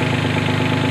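Mini excavator engine running just after starting, a loud, close, steady rumbling drone with a fast even throb and no pauses.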